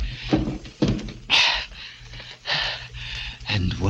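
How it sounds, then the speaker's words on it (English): Furniture is shoved and piled against a door in a radio drama, producing several heavy thumps and scraping bumps spaced irregularly, close and fairly loud, with some breathy sounds between them. "So I piled furniture against the door"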